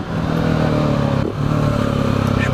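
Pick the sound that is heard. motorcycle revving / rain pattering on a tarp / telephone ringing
motorcycle revving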